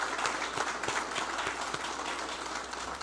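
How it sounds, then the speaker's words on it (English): A crowd at a forestry sector summit applauds youth members, a thick, continuous roar of many hands with a few sharper claps near the start, holding steady at moderate loudness throughout. "Let's give all the members a big round of applause."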